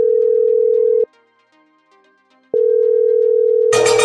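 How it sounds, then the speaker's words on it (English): A telephone ringing during a phone call: a steady electronic tone that sounds, pauses, then sounds again, loud and close, ending in a sudden burst of noise. "Your phone ringing."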